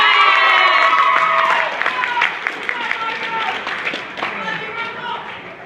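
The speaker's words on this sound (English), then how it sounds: "Give a round of applause." Audience at a Commodore 64 expo presentation bursts into loud cheering and clapping, with shouts and whoops over dense applause that gradually tapers while voices carry on.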